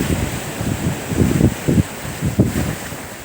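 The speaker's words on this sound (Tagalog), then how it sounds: "Lakas ng alon." Strong waves surge and crash at a resort beach during a storm, rough bursts of water under heavy wind buffeting the microphone, with no talking.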